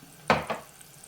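Tomatoes being sautéed for South Indian rasam, two quick scrapes of a spoon stirring them in the pan over a faint low sizzle, close and brief with no voices.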